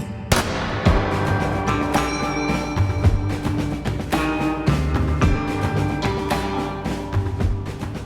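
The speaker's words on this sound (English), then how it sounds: "these two gunslingers, they have their own story to tell. They're shooting from the hip." Two gunslingers fire from the hip, loud sharp gunshots cracking repeatedly in a rapid irregular volley, close and ringing, with bright metallic tones between the reports.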